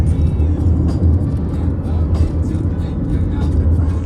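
A car drives along Route 66 with a steady, loud road rumble and engine drone heard from inside the cabin, a constant low roar throughout with faint talking mixed in.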